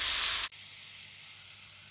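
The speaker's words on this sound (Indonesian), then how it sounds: "Tumis bumbu yang sudah dihaluskan." A ground spice paste for sambal teri sautéing in a pan gives a loud, bright sizzle that drops suddenly to a quieter, steady hiss partway through, heard close with no voices.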